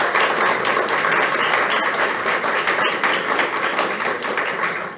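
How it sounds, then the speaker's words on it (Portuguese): Loud, close applause from an audience at a debate event, dense clapping with a few sharper individual claps and thumps standing out, tapering slightly toward the end. "eu gostaria de pedir uma salva de palmas para o pessoal"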